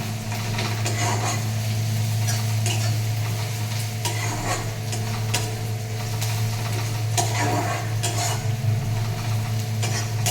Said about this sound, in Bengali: পেঁয়াজটা অনেকটাই লাল লাল করে ভাজা হয়ে গেছে